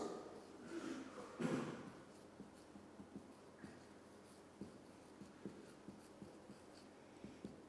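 Chalk or a marker writes on a board during a physics lecture, giving faint scratchy strokes and light taps spaced through a quiet room.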